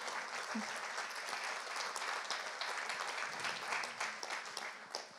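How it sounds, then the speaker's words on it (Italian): Audience applause at a mountaineering talk, sustained dense clapping across the hall at moderate distance, steady throughout. "e qui c'è anche Romano Benet, e farei un applauso per lui"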